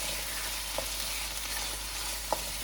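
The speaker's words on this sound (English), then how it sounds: "And keep stirring it" Spices fry in a pan for black chickpea curry while being stirred, a soft continuous sizzle with a couple of faint utensil taps.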